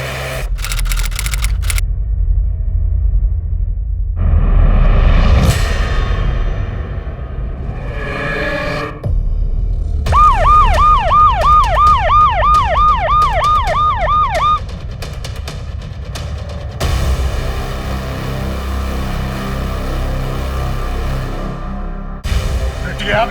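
An ambulance siren in a TV crime drama scene, a fast warbling wail repeating for several seconds among other loud, dramatic background sounds.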